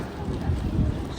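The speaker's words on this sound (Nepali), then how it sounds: "आज चाहिँ हावा पनि रहेछ" Outdoor wind on a hot summer day buffets the microphone in a steady low rumble, close and continuous throughout the short stretch.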